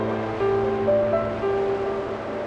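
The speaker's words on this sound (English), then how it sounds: "Like wind almost has a bit of pitch to it in this mirage here." A synthesized wind soundscape from the Pianoverse synth plugin gives a steady, breathy rushing wash with faint pitched tones gliding through it, no voices present.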